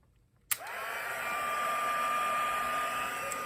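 Heat gun blowing hot air for embossing on a handmade Christmas card switches on abruptly, its motor whine rising to a steady, loud whirring hum with rushing airflow that continues close by, with no talking.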